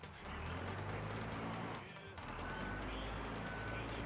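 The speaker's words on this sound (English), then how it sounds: "I gotta get my truck started again." A rough-idling truck engine in a video game drones steadily at close range, low and buzzy, with a brief dip partway through before it rumbles back.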